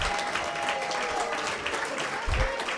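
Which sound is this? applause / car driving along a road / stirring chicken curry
applause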